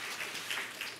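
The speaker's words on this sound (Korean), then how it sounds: "다시 한번 박수 좀 부탁드리겠습니다." Audience applause fills a university launch ceremony hall, a steady, dense patter of clapping at moderate volume with no voices over it.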